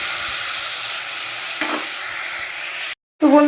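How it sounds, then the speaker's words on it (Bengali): Ginger, garlic, onion, green chilli and cumin paste sizzles and is stirred in a hot pan, a steady close frying hiss with a scrape midway, ending in a brief silence and then a faint voice. "মশলাটা কষাতে বসিয়ে দিয়েছি"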